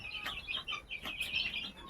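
Free-ranging farm chickens cluck and chirp in short, irregular bursts nearby, several calls overlapping in quick succession, in Purulia.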